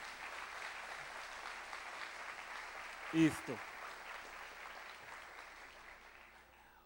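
Soft, steady clapping from a church congregation praising God, heard at a moderate distance throughout, with a brief voice and a short louder knock near the middle.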